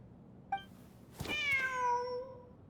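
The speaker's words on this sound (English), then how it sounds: "Wait, there it is! The cat!" A cat meows in the fantasy video game Genshin Impact, set in a desert region: a short faint chirp, then a single clear, drawn-out meow that fades over about a second, heard alone.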